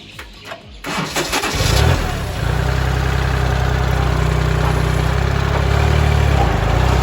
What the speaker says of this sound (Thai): อ่ะช่างขับเลยครับ